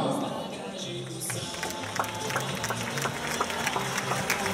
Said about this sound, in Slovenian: Sedaj pa en velik aplavz za generalnega sponzorja.